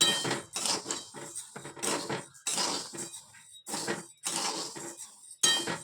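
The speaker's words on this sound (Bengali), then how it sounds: "ডালটা এই যে ভাজা হয়ে এসছে আর একটু বাকি আছে লাল লাল করে ভেজে নেবো" Mung dal frying and being stirred in a metal pan, heard as repeated scraping, clinking strokes of a spoon against the pan in uneven bursts with short pauses between them, close up.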